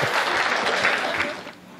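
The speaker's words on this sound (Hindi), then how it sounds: "हमारी कविताओं पे ताली वाली बजाते रहिएगा" Audience applause filling a hall during a Hindi poetry recital, dense steady clapping that fades slightly toward the end, with no voices over it.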